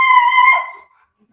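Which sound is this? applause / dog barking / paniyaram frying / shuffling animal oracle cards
dog barking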